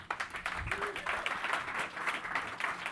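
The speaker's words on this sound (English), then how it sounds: "Let's give a huge round of applause for Othersphere" Demo day audience applauding the startup Othersphere, steady crowd clapping at moderate distance, fairly quiet, with a brief voice under it.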